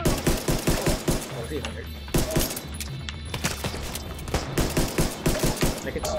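Rapid AK rifle and pistol gunfire in The Division 2 video game, dense bursts of loud shots with brief pauses, while a voice talks over the shooting.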